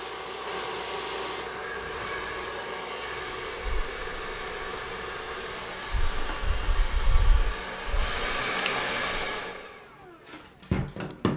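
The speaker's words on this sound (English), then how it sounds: "when you hold the brush with your hair dryer, as you're cooling the hair" A hair dryer blows steadily with a broad rushing roar while hair is brushed into shape, briefly shifting in tone, then cuts off near the end, followed by a few handling knocks.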